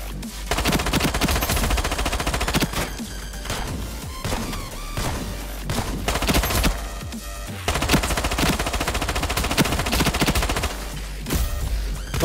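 P90 gunfire in the video game Ironsight, loud sustained automatic bursts with brief pauses between them, dense and close throughout.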